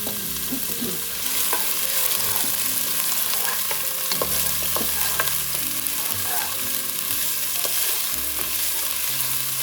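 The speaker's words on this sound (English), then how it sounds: "we're going to be sauteing our onion and our garlic" Chopped onion sauteing in oil in a Dutch oven, a continuous close sizzle with a spoon scraping and stirring at irregular intervals.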